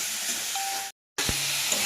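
Ridge gourd and onion fry in hot oil in a wok with a steady, close hiss that breaks off into a brief moment of silence and then resumes.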